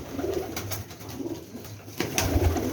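Teddy pigeons, breeding pairs kept in Rawalpindi, coo in soft repeated low murmurs close by, with a louder burst of cooing near the end over faint background noise.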